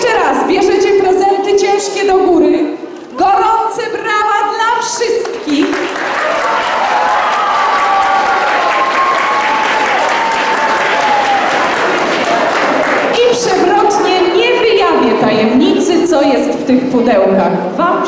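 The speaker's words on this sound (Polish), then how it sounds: "Gorące brawa dla wszystkich." Sustained applause from a crowd, loud and continuous, with a voice speaking over it at the start and end.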